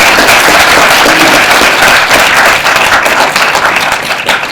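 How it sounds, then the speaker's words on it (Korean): An audience at a screen-talk event gives warm applause for a lawmaker. The clapping is loud and close and continues throughout, easing off slightly toward the end. "우리 안민석 의원님께 뜨거운 박수 한번 쳐주시고"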